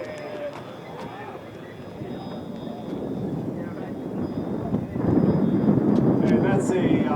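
A scratch-built foam model Martin B-10B bomber with electric motors drones overhead on a windy morning, a steady hum that swells louder near the end amid gusty wind noise.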